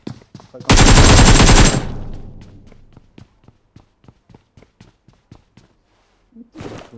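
Shotgun fire opens with a loud, roaring blast lasting about a second, then a string of sharp, evenly spaced shots that fade, and a final burst at the end.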